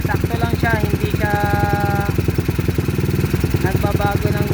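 A motorcycle engine fitted with a Solfili 28mm PWK flat slide carburetor idles steadily at close range, a rapid even putter throughout, with a voice talking over it.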